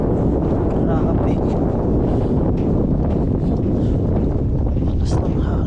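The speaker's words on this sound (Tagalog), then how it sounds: "Lakas ng hangin." Strong wind at sea buffets a fishing boat, a loud continuous roar of gusts battering close up with no letup.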